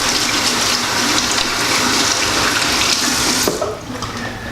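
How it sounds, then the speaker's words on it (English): Water runs from a tap onto hands being rinsed of hairspray, a steady broad splash that cuts off near the end, leaving a quiet tail. "I'm gonna wash the hairspray off my hands."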